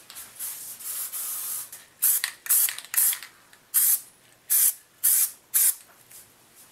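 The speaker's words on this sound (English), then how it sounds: "give them a nice dusting of the spray adhesive" Spray adhesive hisses from an aerosol can onto cardboard, first in a long steady burst, then in a run of short, evenly spaced close bursts with brief silences between.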